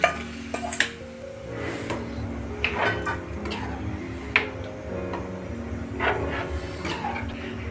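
Pieces of chicken being tipped into a pot of frying masala for chicken rassa, with metal clanks and spoon scrapes against the pot over a low steady sizzle, moderately quiet.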